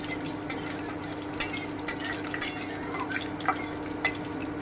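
Piyali fish frying lightly in oil in a pan over a raised flame, a low steady sizzle broken by about seven sharp clinks and scrapes of a utensil against the pan.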